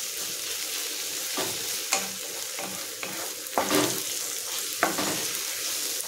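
Onions and tomatoes with curry leaves fry on low heat for a mutton raw-mango curry, a steady close sizzle broken by scattered scrapes and knocks of stirring.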